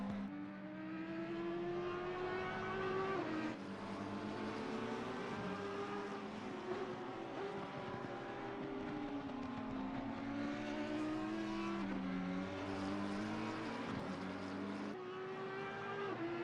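An Audi R8 race car in a racing sim on the Barcelona circuit, its engine droning steadily with the pitch climbing and dropping through gear changes, moderate and continuous with no voices.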